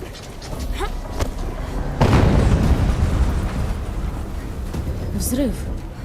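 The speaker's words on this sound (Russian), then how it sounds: "Взрыв." A deep, loud explosion bursts out partway through Horizon Zero Dawn Remastered gameplay, its rumble spreading and lingering under game sounds and scattered effects.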